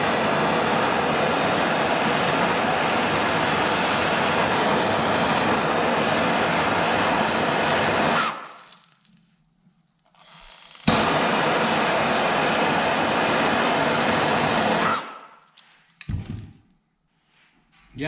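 A torch heats fluxed copper tubing for soldering a wall-art piece, giving a loud, steady roaring hiss in two long bursts separated by a short silence, with a brief faint rattle near the end.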